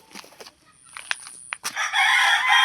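An Egyptian Fayoumi laying hen in a sudden, unexplained state of distress gives a series of sharp, close clucks and squawks. A loud, rough burst of noise follows at the end, and no one talks.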